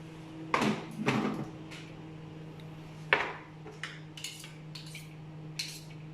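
A spatula scrapes blended onion and garlic off the lid of a food processor, giving several short scraping and clinking knocks spread out over a low steady hum, close by, with no talking.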